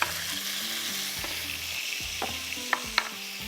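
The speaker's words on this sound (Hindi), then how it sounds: "मसाले को भुनाई करेंगे" Chopped tomatoes and spices sizzle steadily in a hot pan while a spoon stirs and scrapes through them, with a few sharper clinks of utensil against metal near the end; no one speaks.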